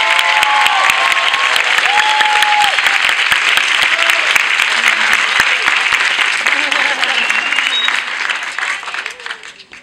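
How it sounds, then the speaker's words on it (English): Students applaud and cheer for an astronaut at the close of a live video chat, making a dense, loud wash of clapping with scattered shouts that holds steady and then fades away near the end. "can we all give Joe a big cheer and tell him thank you?"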